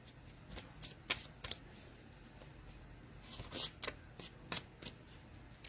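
A deck of cards is shuffled by hand in repeated quick riffles, close and quiet, with brief pauses between bursts and no talking.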